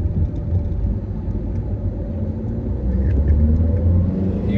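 An Audi A3 8P 2.0 TDI drives over a bumpy road, its diesel engine rumbling steadily and loudly in close view from inside the car as it builds slightly, with no voice over it.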